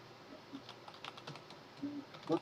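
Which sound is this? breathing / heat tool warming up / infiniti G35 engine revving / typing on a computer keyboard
typing on a computer keyboard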